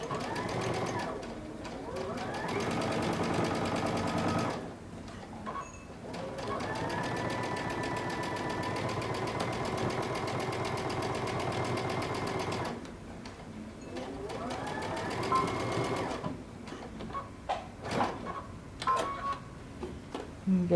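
A sewing machine runs close by, stitching a cape seam with a 5/8-inch seam allowance, whirring steadily in two long bursts separated by a brief pause, followed by softer clicks and handling sounds.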